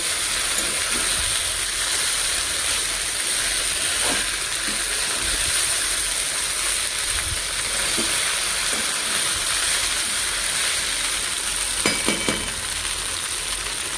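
Pasta frying in a pan, a continuous close sizzle with a few clinks of stirring, steady throughout with no talk.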